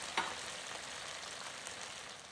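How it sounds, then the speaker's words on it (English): Dry white wine simmers in a pan for chicken piccata, a soft, even hiss of steady bubbling, quiet and close, with a single faint tap near the start. "Add half a cup of dry white wine. Let the wine simmer down to half."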